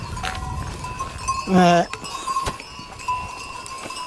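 Sheep grazing on a mountain trail in the Pyrenees, one bleat about one and a half seconds in, with cowbell-like clinks and someone speaking nearby.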